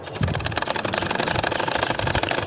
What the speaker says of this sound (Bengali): এখন দেখেন একইভাবে আবারও আমি কিন্তু সেলাইটা করে নিচ্ছি।